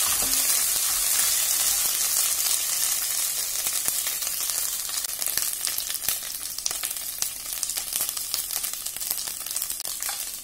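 Masala of green chillies, curry leaves and ginger paste sizzles loudly and evenly in a hot pan for kadhi, with a dense continuous crackle and a few faint stirring knocks.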